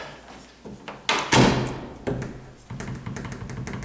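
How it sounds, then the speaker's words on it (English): A house door being adjusted at its strike plate swings shut with a loud thud, preceded by softer handling knocks and followed by a couple of lighter bumps and rattles, with no voices. "Close the door."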